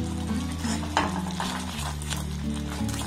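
Turmeric powder and other ingredients being stirred and sautéed in a pan for a home-style hilsa fish curry, a steady close sizzle with soft scraping strokes under a low background hum.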